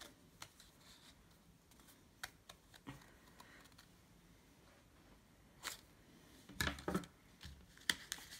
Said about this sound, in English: And then you need to cut along the lines.